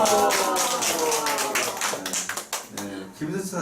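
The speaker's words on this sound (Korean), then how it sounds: "박수 한번 해주세요." A seminar audience at a Korean company orientation claps in a brief, uneven patter of taps and hand claps, close and fairly loud, with voices talking over it.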